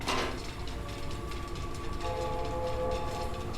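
Toy train set running inside the puzzle game The 7th Guest, a steady mechanical rumble with a faint tonal whine, sustained and fairly loud throughout with no talk.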